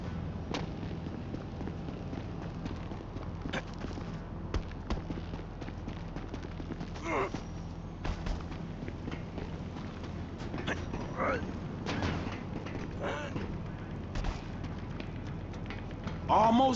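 Gunfire in GTA 5 cracks out as scattered sharp bangs at moderate level, some in quick clusters, mixed with game ambience and speaking voices.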